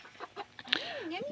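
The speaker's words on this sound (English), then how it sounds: "They're a lavender rooster. They don't crow loud." A lavender rooster gives a soft, short crow with a rising and falling call at close range, after a few faint clucks and under quiet background noise.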